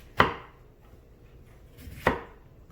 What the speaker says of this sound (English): Going to cut this one thinly, okay? Just like that. And then thinly.